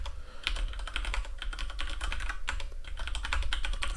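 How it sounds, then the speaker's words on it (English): Steady typing on a computer keyboard while naming a module in Visual Studio Code, with quick, close, crisp key clicks in continuous irregular bursts and no voices. "I'll type a name for the module"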